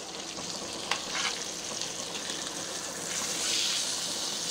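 Pomfret fish shallow-frying in a pan over a medium gas flame gives a steady, moderately loud sizzle, with a brief clack near the start as the fish is turned.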